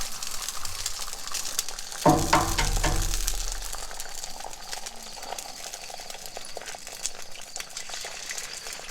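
Small white leghorn eggs frying on a Blackstone griddle, a steady hiss that flares into a louder crackling sizzle as an egg hits the hot surface, then settles to a constant fry.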